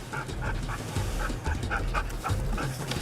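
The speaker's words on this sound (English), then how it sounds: "I'm sending in the dog to get you!" A police dog pants heavily and rapidly during a search, rhythmic close breaths mixed with a few soft whimpers and yips, steady and loud throughout.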